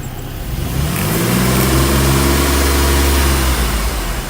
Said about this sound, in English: at idle while the loads are on